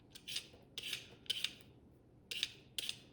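A vegetable peeler scraping along a potato in five short, rasping strokes, close and quiet, with brief pauses between strokes and no talking.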